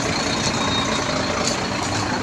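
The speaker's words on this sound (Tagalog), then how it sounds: "May bus na malaki." A large bus rolls by in heavy traffic, its engine a steady, loud broadband roar that fills the scene throughout with no talking.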